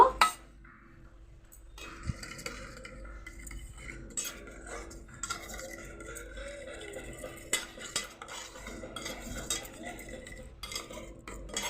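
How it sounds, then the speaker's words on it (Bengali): Paneer masala with mustard oil stirred in a pot, with intermittent metal spoon scrapes and clinks against the vessel, close and moderate, a faint voice now and then. "এবার আমি ভালো করে মিক্স করে নেব"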